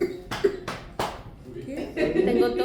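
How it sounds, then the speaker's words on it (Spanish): A person coughs several times in short, sharp bursts, followed by a stretch of talking. "Tengo tos"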